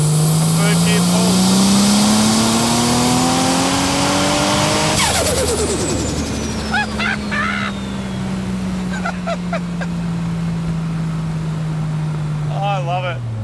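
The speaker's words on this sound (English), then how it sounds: "I'm going to go make some more mad turbo noises. A third gear pull." A Nissan 240Z with a swapped GT-R twin-turbo engine pulls hard through third gear, its engine note climbing loudly for about five seconds before a sharp shift, turbo whoosh and blow-off chatter, then a steady drone that fades.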